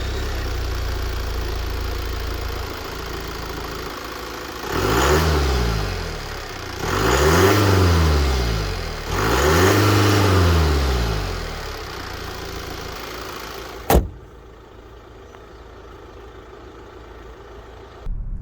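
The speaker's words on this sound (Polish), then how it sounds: "wciąż słychać, że jest to rzędowa czwórka diesel." A Volvo XC90 B5 AWD with a 2.0-litre inline-four diesel drones steadily, rising and falling through three revving swells before a sharp click and near silence.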